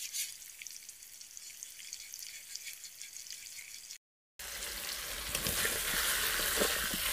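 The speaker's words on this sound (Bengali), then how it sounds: "কুমড়োগুলো এইভাবে ভেজে নিয়েছি, উঠিয়ে নেব" Pumpkin pieces fry in oil with a soft, even sizzle that turns louder and harsher after a brief cut, the crackle building toward the end.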